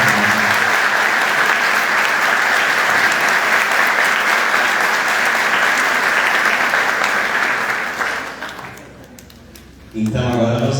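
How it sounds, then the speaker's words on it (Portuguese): Congregation applause during a closing mass for the Festa do Divino at a parish church, loud dense clapping sustained for about eight seconds before dying away, followed by a brief sound at the very end. "Mais um aplauso para eles."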